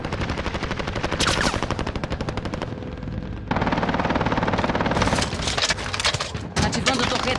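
An allied sentry gun turret fires in Call of Duty: rapid, sustained automatic gunfire running almost without pause, loud and dense, with overlapping bursts and game sounds and a voice in the mix.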